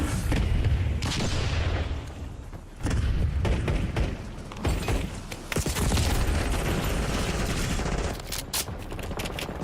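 In a shooter video game, a Semtex grenade goes off among bursts of rapid gunfire and heavy booming thuds, the loud explosive cracks and rattles arriving in clusters over several seconds.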